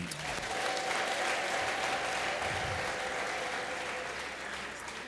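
A church congregation in Addis Ababa clapping and ululating in praise after a testimony, sustained dense applause with a faint high trilling ululation running through it, steady throughout.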